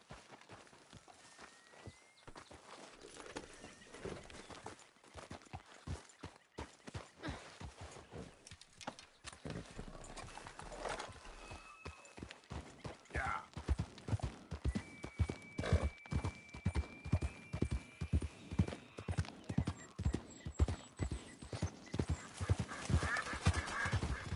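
Steady clip-clop of horse hooves on a hard surface in the video game Red Dead Redemption 2, a brisk even rhythm growing louder over time, with faint ambient tones underneath.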